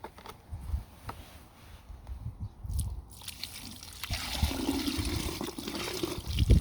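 Water is poured into a freshly dug gate post hole in a garden, a soft trickle and splash that grows steadier in the second half, close and fairly quiet.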